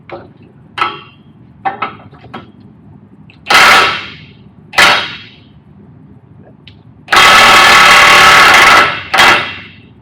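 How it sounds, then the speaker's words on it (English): An impact wrench working a nut on an excavator final drive, firing in several short bursts and one longer rattling burst, loud and close between quieter clanks of metal. "See if the impact will take it off now."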